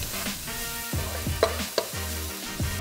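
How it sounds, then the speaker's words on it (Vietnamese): Dried shrimp stir-fried with a spoonful of sugar in a pan gives a soft steady sizzle, broken by repeated scraping strokes of a spatula and a couple of sharp clinks, close by with no talking. "xào thêm khoảng 1 phút"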